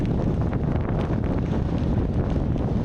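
Strong, steady wind roars into the microphone outdoors in Iceland, a dense low rumble buffeting constantly with no pauses and no voices.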